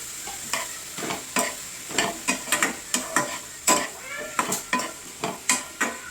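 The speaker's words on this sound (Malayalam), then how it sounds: "അപ്പോൾ നമുക്ക് സവാളയും കൂടി ചേർത്ത് കൊടുക്കാം" Onions sizzling in a pan for a vegetable biryani gravy, stirred with a regular scraping rhythm of about two strokes a second over a constant frying hiss.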